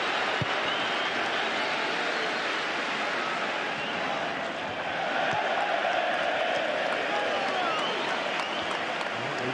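A football stadium crowd at the Liverpool versus Manchester City Community Shield match applauds the Liverpool manager with steady, sustained clapping that holds level throughout.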